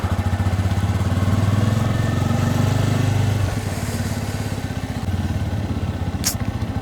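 A motorcycle engine runs close by and loud, with a steady throbbing drone that dips slightly partway through and continues to the end, with no voices.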